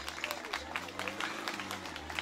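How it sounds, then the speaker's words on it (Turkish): Wedding guests at a Turkish wedding in Kahramanmaraş applaud together in a steady, lively patter of many hands, with music and voices underneath. "kocaman bir alkış istiyoruz"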